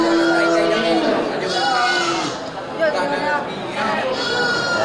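Sheep and goats, including ewes, breeding does and an Etawa goat, bleat repeatedly at an outdoor livestock market in Bireuen, calls overlapping near and far over steady crowd chatter and talk.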